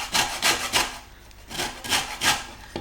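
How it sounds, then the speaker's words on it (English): Orange zest being grated on the small side of a grater, quick rhythmic rasping strokes in two bursts of three, close and fairly loud with no talk. "Using the small side of the grater or the zester,"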